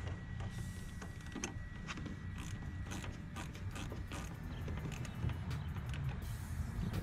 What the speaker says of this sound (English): I'm going to tighten it with my wrench.